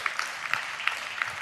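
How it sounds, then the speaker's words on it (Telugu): A church congregation clapping while praising God: sharp, roughly regular hand claps at moderate distance, fairly quiet, with a soft murmur underneath and no clear speech. "చప్పట్లు కొడుతూ స్తోత్రాలు చెప్దాం"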